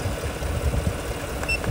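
A car engine idles steadily while a battery is tested with a KINGBOLEN BM560 analyzer, giving a low, even, continuous rumble with slight vibration, close and moderate in level, and no talk.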